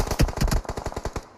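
Automatic gunfire in the mobile game PUBG Mobile: a rapid burst of about a dozen sharp shots over just over a second, close and loud, with no talk.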